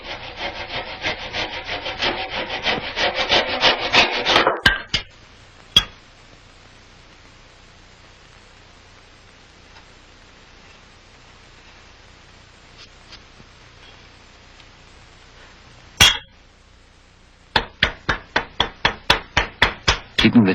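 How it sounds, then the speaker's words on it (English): A sharp hand chisel pares hard maple end grain while a gunstock is shaped in a Williamsburg gunsmith's shop. Quick rhythmic scraping strokes come in two bursts, with a few isolated knocks and a quiet stretch between them. "Keeping the chisel very sharp is important while cutting hard maple on the end grain."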